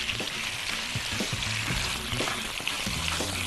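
Chicken drumsticks sizzle and fry in a pan of hot oil, a steady crackling hiss close by with scattered pops and spits throughout, no talk.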